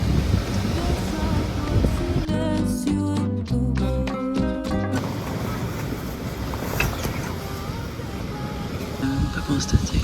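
Strong wind gusts across a wild stretch of coast between Loreto and Agua Verde at 2:30 in the morning, a loud, continuous broadband roar with flapping, tonal buzzing through the middle.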